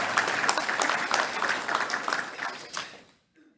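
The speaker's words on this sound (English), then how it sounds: "Let's give a round of applause to all of our great sponsors." A crowd at a touchdown club luncheon applauds its sponsors with steady, dense clapping for about three seconds before it cuts off sharply to near silence.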